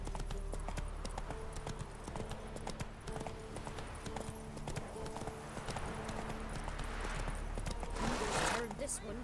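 Roach, Geralt's horse in The Witcher 3 out in Velen, gallops with fast rhythmic hoofbeats under a droning game score, while voices speak in between and a louder rush of noise swells near the end.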